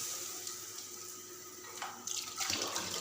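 Potato and chicken tikkis fry in hot oil over a medium flame, making a soft, fairly quiet sizzle and bubbling that swells into brighter spitting crackles near the end.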